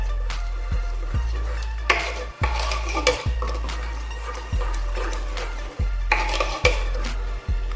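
A spoon stirs ground coconut paste into green gram curry in a metal pot, scraping and clinking against the sides in repeated strokes with soft bubbling between, close and fairly loud, with no talk.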